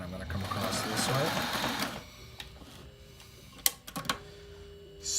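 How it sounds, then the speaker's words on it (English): A sewing machine stitches battery strap webbing for an FRC robot in a steady mechanical run lasting about two seconds, followed by a few clicks and quieter handling, while someone speaks throughout. "Then I'm going to sew down this length."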